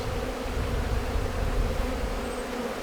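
Steady, dense buzzing of many honey bees during a hive inspection, continuous and close, with a low droning hum throughout and no talking.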